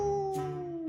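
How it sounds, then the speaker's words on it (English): A wolf gives a chilling, drawn-out howl, a sustained steady tone for a children's Three Little Pigs story, loud and close with no talk over it. "Suddenly, they heard a chilling howl."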